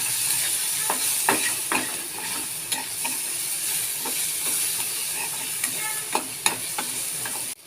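Masala stirred in a frying pan with salt and turmeric powder: a steady loud sizzle and hiss runs throughout, broken by repeated sharp scraping clicks of a spatula against the pan.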